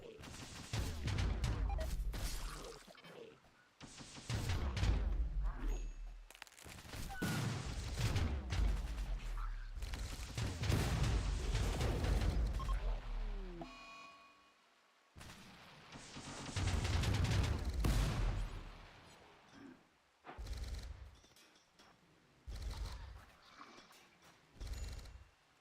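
Gunfire in the video game Rimworld comes in repeated loud bursts of shots and impacts, dense volleys broken by short pauses, with quieter sporadic shots toward the end.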